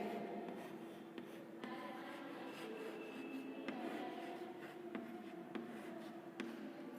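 A pen scratches across paper, writing out a single short word in soft, continuous strokes with small ticks between letters, close and quiet with no one speaking.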